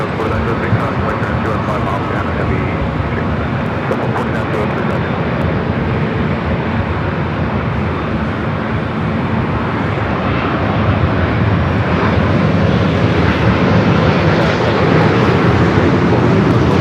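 Turkish Airlines Boeing 787-9 Dreamliner at LAX, a sustained heavy jet-engine roar that builds slightly louder toward the end, with speech running over it.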